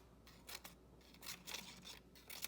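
Scissors snip quick cuts into paper to make fringe for a paper sculpture, a few faint close crisp strokes in a quiet room.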